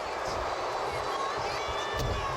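A wrestling arena crowd roars and cheers continuously in WWE 2K25 during a Great Khali vs. Undertaker match at WrestleMania, a dense steady din with commentator voices over it.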